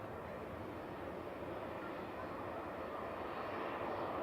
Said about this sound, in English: that Ryanair's taxiing into gate